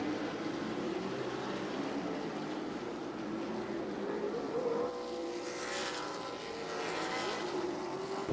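Sprint or stock cars race around a dirt oval at a night race, with steady engine roar rising and falling as the cars circle, sounding at middle distance and continuous throughout.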